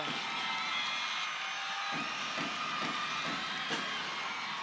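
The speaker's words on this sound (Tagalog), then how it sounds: "the crowd loving it here at the Big Dome" A steady roar of crowd cheering fills the Big Dome arena during a 2022 PVL Reinforced Conference volleyball finals game, loud and sustained with brief swells of shouting rising above the din.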